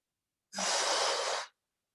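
One deep, hissing breath lasting about a second during a deep splits stretch, close and clear, set against silence before and after.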